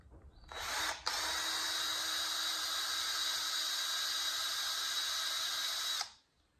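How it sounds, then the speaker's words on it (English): A power drill bores a hole in metal, whining steadily for about five seconds, starting with a brief stutter and cutting off abruptly, close and loud with no talking. "maybe more difficult to drill this hole than it is to hold it"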